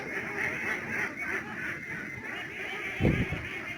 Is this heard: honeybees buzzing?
no